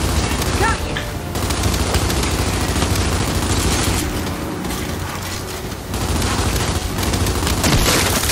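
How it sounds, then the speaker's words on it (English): Enemy gunfire in Gears of War 5 rattles on almost continuously at close range, dense bursts mixed with booms, while a voice talks over the fighting. "Stop shooting me."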